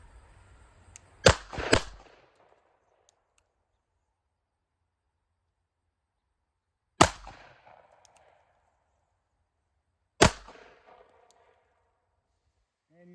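Two pistols, one a Glock 19, fired together at a shooting range: a pair of loud, sharp near gunshot cracks in quick succession, then two more single loud shots spaced several seconds apart, each trailing off into a brief echo.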